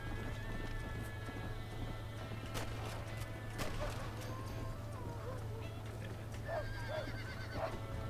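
A horse in the Red Dead Redemption video game whinnies near the end, with scattered hoof clatter and sharp impacts over a steady low in-game hum.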